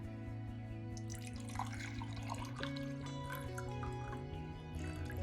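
A cup of water is poured into a measuring cup for sugar syrup in a home kitchen, a quiet, faint trickle and drip that continues throughout beneath a steady low hum of background tones.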